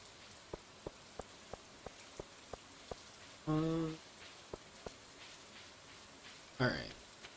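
Rain falls steadily in the Stardew Valley video game, a soft constant patter under a regular ticking pulse, with two brief louder game sound effects partway through.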